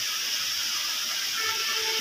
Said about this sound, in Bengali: পেঁয়াজটা আরও একটু নরম হবে, গলে যাবে। এখন আমরা কষিয়ে রেখে দেব